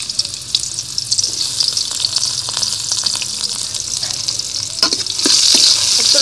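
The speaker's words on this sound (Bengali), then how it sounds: "একটু লাল লাল করে ভেজে নিব পেঁয়াজটা" Chopped onions frying in hot oil in a pan for a pangas fish and potato curry, giving a loud continuous close sizzle with occasional clicks of stirring that swells slightly louder toward the end.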